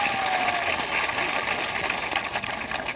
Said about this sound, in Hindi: उनके लिए भी ताली बजाइए